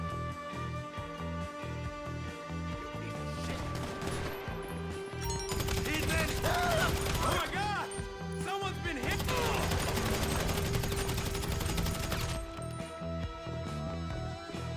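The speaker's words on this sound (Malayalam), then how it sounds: "ഇനി ഇതിന്റെ ഉള്ളിലും വെടിയാവും" Rapid bursts of gunfire ring out in a GTA V gameplay session, mixed with game music and effects, lasting through the middle stretch before easing off.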